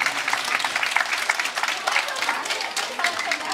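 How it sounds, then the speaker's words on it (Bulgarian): Audience applause for teachers at a March 8 school celebration, a dense, continuous patter of many hands clapping throughout, fairly close and even in level. "Затова искам специалните ви аплодисменти за Нели Крумова, за Роси Иванова и за Леля Венетка."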